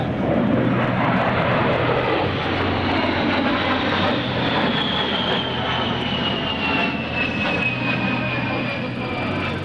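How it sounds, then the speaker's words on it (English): An A-10 Thunderbolt II jet roars loudly and steadily through a flying demonstration at a 2004 joint services open house, its engine whine slowly sliding downward in pitch as it repositions for a pass down the runway. "repositioning the A-10 for a pass down the runway, where he will perform an aileron roll at show center"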